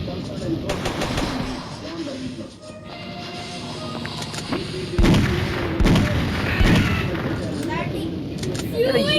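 Gunfire in the video game Mini Militia crackles in rapid bursts and booming blasts throughout a multiplayer gang-war match, fairly loud and dense, with players talking over the shooting.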